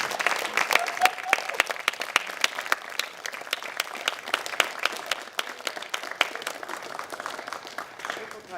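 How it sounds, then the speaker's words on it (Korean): Audience at a human rights concert breaking into sustained warm applause, dense steady clapping filling the hall for several seconds, with a voice speaking over it. "뜨거운 박수 부탁드립니다"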